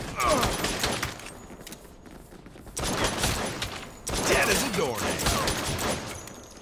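Gunfire in the game Saints Row, with a pistol among the weapons: loud rapid bursts of shots in repeated volleys with short pauses between them, and a voice partly audible under the firing.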